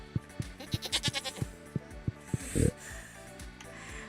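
A goat in the Stardew Valley farming game bleats in a quick run of short sharp calls, followed by a breathy snort, loud and close over soft background game music with little talk.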